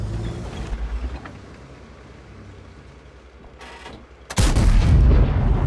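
A heavy cannon-like blast from an ISU-122-2 tank destroyer's gun in a video game erupts near the end after a stretch of low rumbling and mechanical background noise, loud and booming.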